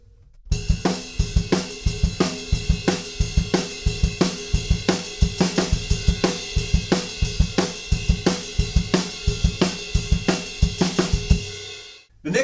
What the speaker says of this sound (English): Then we move our punk beat down onto the ride cymbal